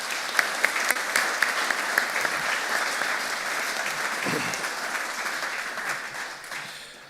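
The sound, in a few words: audience applause for city council members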